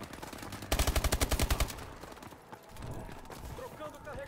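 Rapid automatic gunfire bursts out in a video game, a quick string of about ten loud shots, then fades to quieter game ambience and scattered movement noise.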